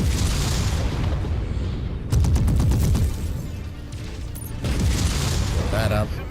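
Incoming missile blast in a mech combat game, a loud booming explosion with crackling debris and rolling rumble, followed by further bursts, with excited voices talking over it.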